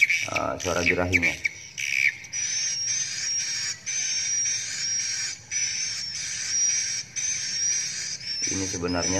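Repeated loud, shrill squawking bird calls recorded up close, sounding as a rapid run of harsh chirps with brief gaps, with a voice talking at the start and the end.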